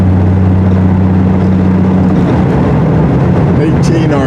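Triumph TR6 engine cruising at 50 mph in fourth gear with overdrive engaged, around 1800 rpm, a loud steady low drone with road and wind roar inside the cabin, continuous throughout.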